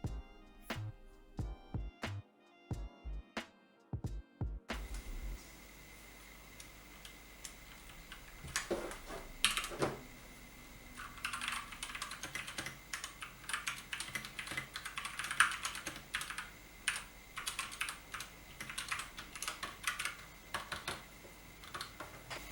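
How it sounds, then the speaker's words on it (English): Keys on a newly built mechanical keyboard clack in quick irregular bursts, close and crisp, with a few isolated taps before steady typing. "so you can hear what the keyboard sounds like while I give it an initial test"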